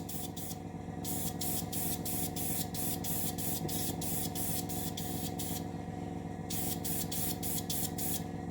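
Bursts of spray paint hiss as a light dust coat goes onto a model Russian Project 955 Dolgoruky submarine, including the top of the fin; repeated short sprays in quick rhythm, a pause, then another run of bursts over a steady background hum.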